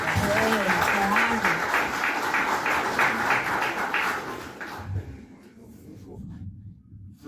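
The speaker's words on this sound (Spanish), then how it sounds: "Un aplauso." Audience applause at a lubrication solutions presentation, a few seconds of clapping mixed with voices that quickly tapers off into near quiet.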